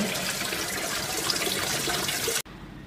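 Water runs steadily from an opened tap labeled F17 into the middle tank of a laboratory tank setup, a broad continuous rush that stops abruptly near the end.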